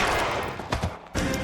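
Gunfire in LA Noire, a burst of close, loud shots with sharp cracks and thuds, a brief lull, then another report.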